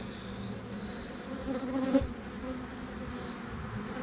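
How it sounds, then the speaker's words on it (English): Honeybees swarm over a brood-covered frame lifted from a hive in a beeyard, their steady droning buzz close and continuous, swelling briefly near the middle. "Lots of bees."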